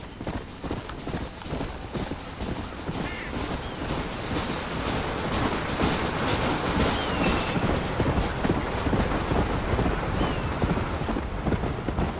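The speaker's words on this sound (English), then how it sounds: "Choo-choo train coming." A train rolls past in the Western video game Red Dead Redemption, a steady loud rumble with rhythmic clatter of wheels on rails filling the whole stretch, with no talking over it.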